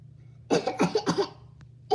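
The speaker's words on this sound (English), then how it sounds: "I have a cough" A few quick coughs in a row, close and fairly soft, followed by a brief pause and the start of another cough.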